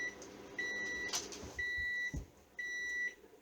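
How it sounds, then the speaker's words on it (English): A kitchen timer beeps in three evenly spaced bursts of rapid high electronic tones, with a few faint kitchen clunks between them and no talking. "Alright, timer's going off."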